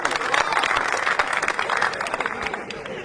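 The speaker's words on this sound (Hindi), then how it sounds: "जोरदार ताली एक बार आई हूं" A live audience at a Hindi comedy poetry performance breaks into loud, sustained applause, a dense crowd of clapping hands that thins out toward the end.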